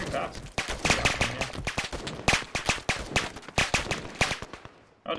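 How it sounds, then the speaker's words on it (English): Gunfire in the video game Arma 3, with rapid bursts and repeated sharp shots from an exchange in grass, loud and dense, with voices talking over it. "Oh, yeah, they're shooting."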